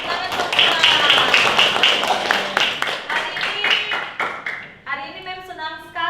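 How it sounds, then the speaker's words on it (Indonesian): Children in a classroom clap their hands together in a lively burst of many overlapping claps, with a teacher's voice talking over and after them. "tepuk tangan dong"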